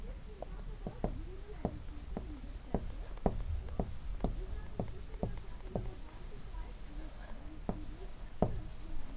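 Marker or chalk tapping and scratching on a board while a virus structure diagram is drawn in a biology lesson, a series of sharp strokes at an irregular rhythm, close and fairly quiet, with a teacher speaking intermittently.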